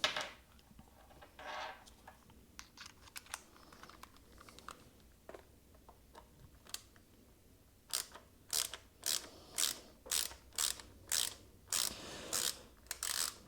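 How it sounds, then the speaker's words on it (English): Screws being backed out of the rear of a PRS SE semi-hollow guitar headstock: a quiet stretch of small scattered clicks and handling noises, then a run of about ten sharp, evenly spaced ratcheting clicks, close and fairly loud with no talking. "the screws in the back of the headstock so I can release them"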